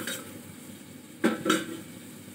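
Pointed gourd (potol) pieces tumble into a cooking pan in two quick, close clattering bursts over a faint low background, with no talk.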